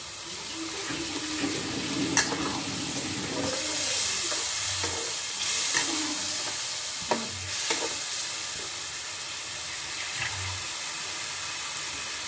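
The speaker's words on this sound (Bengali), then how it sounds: "এবার জলটা দিয়ে নেব।" Water poured into a cauliflower and egg curry in a pan, a steady splashing pour with stirring and sizzling, close and moderately loud with no talk.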